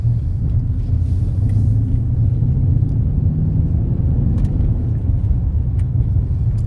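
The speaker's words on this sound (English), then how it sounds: "take the car around the block" A Dodge Challenger SRT drives around the block, heard from inside as a loud, steady low engine and road rumble with no talk.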